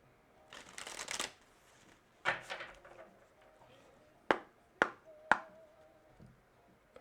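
Tarot cards riffle-shuffled in several quick bursts, followed by a few sharp taps as the deck is squared; quiet gaps in between.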